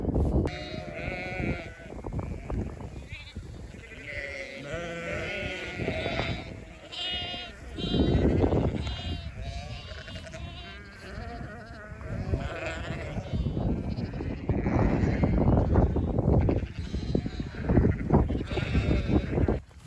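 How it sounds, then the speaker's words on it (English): Sheep bleat repeatedly in a mixed flock during lambing season as they are moved through a fence line into new pasture, overlapping calls near and far with no talking. "I'm going to let the sheep through"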